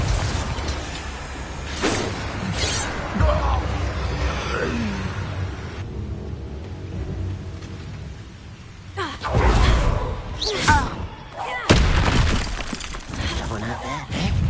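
Bombarda explosion spell cast in Hogwarts Legacy, loud shattering blasts and crashing debris in bursts, mixed with game voices and combat noise.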